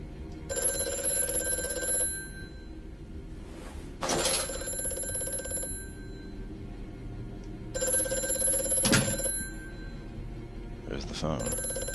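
Telephone bell rings in the horror video game Amnesia, sounding in three separate bursts of bright metallic trilling over a low droning ambience, with footstep-like thuds and a person talking at times.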